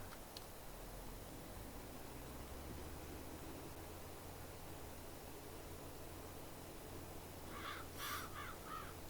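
Crows caw in a short burst of a few harsh calls near the end, heard at a distance over a steady hiss of ambient noise in the farming game Farming Simulator 22.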